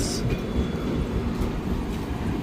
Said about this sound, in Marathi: राजधानी एक्सप्रेस